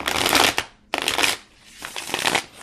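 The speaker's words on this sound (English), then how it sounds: "I like to riffle shuffle, but I'm like, should I dare?" Tarot cards from a Numinous Tarot deck are riffle shuffled up close in two or three loud, crisp bursts of rapid flicking, each ending in a short pause.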